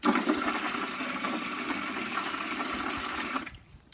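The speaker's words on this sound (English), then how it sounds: "So I'll just put a drop of water in." Water gushes loudly into a bucket in a steady rushing stream for several seconds, then cuts off abruptly.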